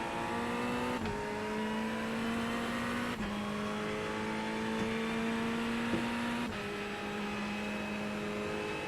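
A Ferrari race car engine in the iRacing game holds a steady high drone, with the pitch dropping sharply at each of several gear shifts, continuous and moderately loud.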